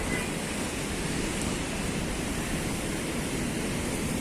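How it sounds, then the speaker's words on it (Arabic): High sea waves surging at Cleopatra beach in Alexandria in wintry, unsettled weather, a loud continuous roar of surf mixed with wind buffeting the microphone, with no distinct individual breaks. "في ارتفاع شديد جدا في الامواج"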